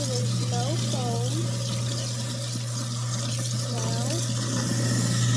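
Tap water runs steadily into a kitchen sink at home, a close, continuous rush under a child's and adults' talk, with one word spoken briefly.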